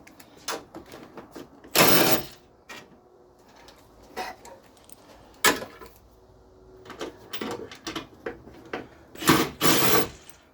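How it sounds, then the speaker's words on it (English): A small impact wrench removing motor mount bolts on a 2007 Ford Focus, with a few short, loud rattling bursts separated by quieter clinks and handling noises nearby. "We're gonna use our baby impact just to save my wrists."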